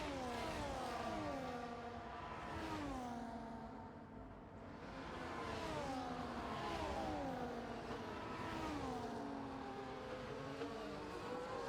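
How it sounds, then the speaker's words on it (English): Ferrari race car engine in a racing video game at Circuit of the Americas, Texas, revving high with repeated rising and falling pitch sweeps through gear changes, steady and fairly close, no talk. "He's chasing down that Ferrari"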